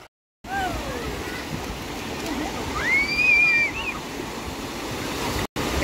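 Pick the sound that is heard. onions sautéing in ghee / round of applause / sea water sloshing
sea water sloshing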